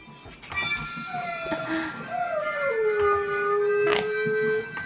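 Huskies and a malamute howl together, long sliding drawn-out wails layered over one another, fairly close and loud for several seconds.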